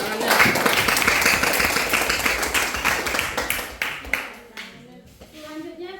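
Classroom audience giving a round of applause after a group's answer, a dense burst of hand clapping that thins out into scattered claps and fades toward the end.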